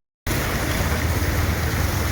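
Drainage water from a blocked roadside drain gushes steadily out of a hole, a loud, continuous close rush that starts abruptly and carries on without pause.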